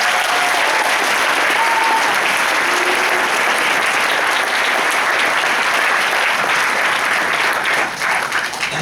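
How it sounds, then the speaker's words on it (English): Audience breaks into a full round of applause, a thick, continuous roar of clapping that holds steady for nearly nine seconds before easing slightly at the end. "So I think they deserve a round of applause."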